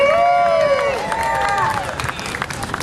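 A rally crowd at a Medicaid expansion event applauds and cheers its speakers, with sustained clapping and rising, wavering whoops filling the full few seconds at a steady, loud level.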